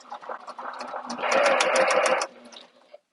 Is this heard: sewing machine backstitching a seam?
yes